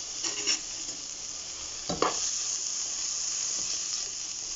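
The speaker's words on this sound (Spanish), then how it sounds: "Voy a esperar a que esto se sofría un poquito" Ingredients for shredded beef sautéing in a pan, a steady close sizzle and hiss with one or two brief scraping stirs, no voices over it.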